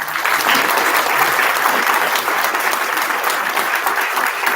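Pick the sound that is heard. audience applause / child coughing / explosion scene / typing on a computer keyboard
audience applause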